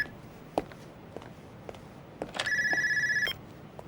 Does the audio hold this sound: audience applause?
no